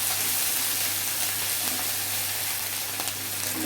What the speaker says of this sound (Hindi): जीरा हमारा लाल हो चुका है और हम इसमें डालेंगे प्याज।